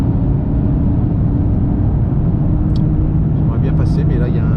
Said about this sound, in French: en modèle R en plus il y a vraiment des bruits d'échappement très sympas